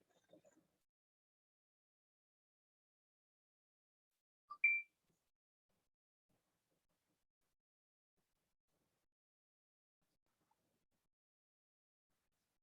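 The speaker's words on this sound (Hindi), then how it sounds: "टाइमर हम लगा देते हैं।" A timer gives one short, faint electronic beep partway through, set against near silence apart from a brief murmur at the start.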